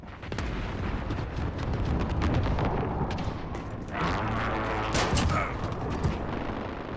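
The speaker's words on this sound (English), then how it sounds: "Enemy precision airstrike." Airstrike explosions in a Call of Duty match boom and rumble continuously in a dense, loud wash, with a heavy blast swelling near the middle amid overlapping gunfire and mechanical clatter.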